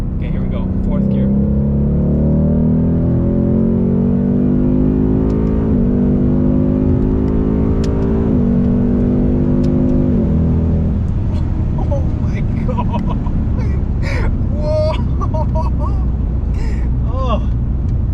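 A 2020 Ford Mustang GT, stock, pulling hard in fourth gear on open road, its engine note climbing steadily with brief dips at shifts, loud and close, then settling into wind and road noise with a voice speaking.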